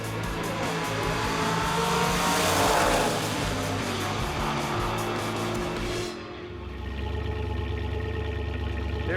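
A Pontiac Trans Am with a bad clutch rumbles steadily and loudly around the pits, its engine note shifting about two thirds through and settling into a lower, even drone.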